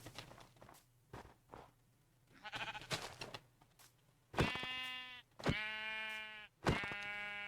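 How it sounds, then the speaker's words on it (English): Blocky game sheep in Minecraft bleat three times in quick succession, loud and close, after a stretch of soft footsteps on the ground. "Hey, we see cows and sheep."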